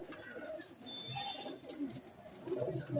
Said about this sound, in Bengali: হ্যাঁ বন্ধ লেজের পায়রা